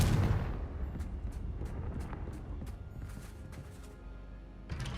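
A Confringo fire spell from the Hogwarts Legacy video game bursts as a loud, booming blast at the start, then rumbles and crackles down under a train of sharp repeated ticks, with a smaller burst near the end.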